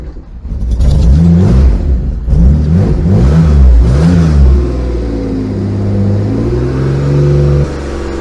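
Citroën Xantia V6 abandoned for years cranks and catches, then revs loudly in rising and falling sweeps before settling to a steady, uneven idle, close and alone.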